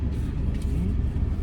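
A Maruti Celerio on a test drive gives off a continuous low engine rumble and road noise, heard close and steady from inside or near the car, without voices.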